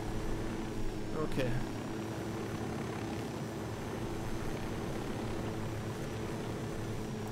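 A helicopter in Ghost Recon Wildlands hums with a steady rotor and engine drone throughout, while players talk briefly over it.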